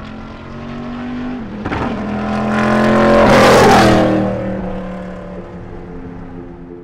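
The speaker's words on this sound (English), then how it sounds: "the car I'm running today is a 1965 Le Mans Bizzarrini A3C" A 1965 Bizzarrini A3/C Le Mans race car drives past with a loud, close engine note that rises as it accelerates toward a peak at mid-pass, then eases off as it moves away, with no talk over it.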